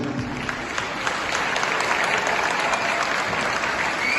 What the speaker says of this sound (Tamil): பலத்த கரகோஷம்.